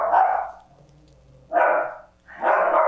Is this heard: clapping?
no